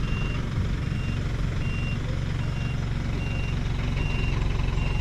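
Truck backing up on soft ground, a heavy low engine rumble with a regular reversing beep repeating steadily throughout, close and loud.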